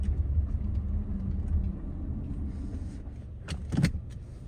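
A 2020-2025 Subaru Outback or Legacy on a test drive gives a steady low road and engine rumble from inside the cabin, with a brief clunk or thump near the end.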